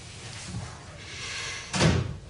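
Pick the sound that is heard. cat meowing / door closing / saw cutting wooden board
door closing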